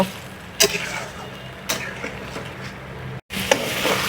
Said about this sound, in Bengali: এখন হচ্ছে লবণ দিয়ে একটু নাড়া দিয়ে দিই